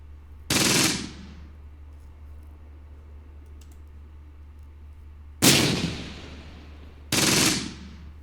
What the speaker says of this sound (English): Where is that coming from? That's going to be a heavy machine gun for sure.